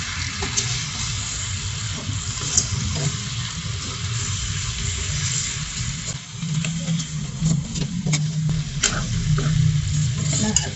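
Fried chicken pieces being stirred in a pan for crispy chicken adobo, steady sizzle with scraping utensil strokes and clatter throughout, close and fairly loud.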